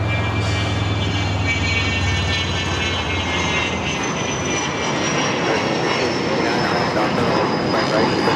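An airliner on takeoff from LAX runway 25 right, a loud continuous engine roar with a rising whine held steady throughout, and radio talk faintly underneath.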